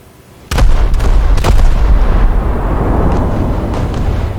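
155 mm naval guns of the IJN Suzuya light cruiser in War Thunder fire a heavy salvo, a loud booming blast followed by a second report and a long rumbling roar that lingers and slowly decays.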